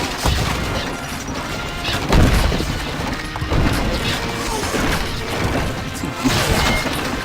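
Assassins smash buildings in the strategy game Stronghold Crusader, producing a dense run of crashing impacts, booms and thuds that recur throughout at a steady, loud level.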